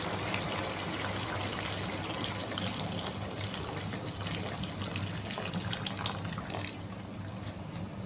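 About a liter of hot water pours into a pot of chicken pulao, a continuous gushing splash with a low hum beneath, steady and unbroken, no talking.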